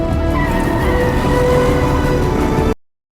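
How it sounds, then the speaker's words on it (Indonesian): A truck pulls away out of a fortress, its engine droning loudly and steadily at close range with some tonal whine before cutting off abruptly near the end. "Jake justru pergi meninggalkan mereka dengan mengemudikan truk keluar dari benteng"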